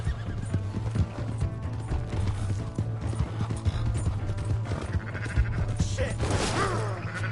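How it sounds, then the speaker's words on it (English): Hooves of a galloping horse in Red Dead Redemption 2, a quick steady clip-clop close up, with whinnies and snorts and other ambient noise mixed in. "Hey, that's my horse!"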